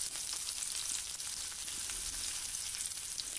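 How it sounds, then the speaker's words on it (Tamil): Pirandai, adamant creeper stems, sautéing in sesame oil, with a steady, hissing sizzle that holds evenly throughout at moderate volume and is heard alone without talk. "இந்த பிரண்டை 1 பை 1 நம்ம ஆட் பண்ணிவிட்டு அதை வதக்கி எடுத்துக்கலாம்."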